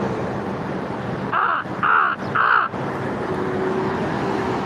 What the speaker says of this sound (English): I hear one of my crow buddies over here.